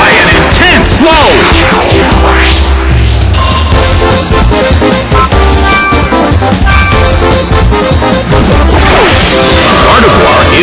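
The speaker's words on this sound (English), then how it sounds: "Earthquake tears open the ground! Taken down by an intense blow!" Earthquake move from a Pokémon Battle Revolution battle: loud crashing impacts and rumbling with whooshing sweeps, a dense, sustained video-game effect throughout.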